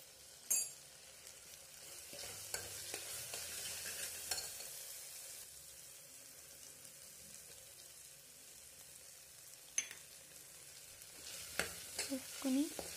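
Spices such as turmeric, chilli and coriander powder are stirred into mushrooms in a hot pan for mushroom biryani, giving a quiet steady sizzle with occasional spoon scrapes and clinks against the pan.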